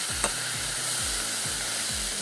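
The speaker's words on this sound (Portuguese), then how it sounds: "Agora que a carne já deu uma refogada boa, ela já está bem caramelizada, bem dourada, a gente pode mexer um pouco" Beef browning in a pan, well caramelised and golden, sizzles steadily while being stirred, with a rhythmic scraping stroke roughly every half second, close and moderately loud with no talk.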